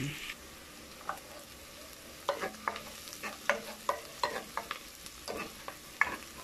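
Pork belly adobo frying in a pan, a soft sizzle under a steady run of quick scraping stirs and clinks from a utensil.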